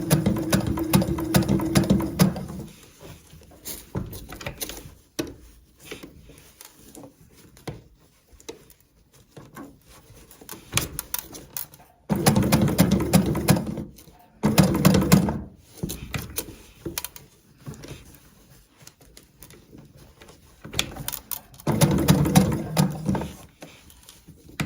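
A sewing machine stitches fabric for a dog coat in several separate runs of rapid mechanical chatter, close and fairly loud, with quiet pauses of handling between the bursts.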